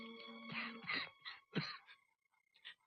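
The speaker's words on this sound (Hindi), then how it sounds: "देखो, खांस रहे हैं, चुप चुप कर खांस रहे हैं।" A few rough, breathy coughs in quick succession, close by, with a faint throaty moan between them and quiet pauses after.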